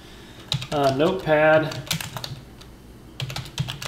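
Computer keyboard keys tapped while entering DOS commands, with a short run of quick, light clicks near the end after someone speaks over most of the stretch.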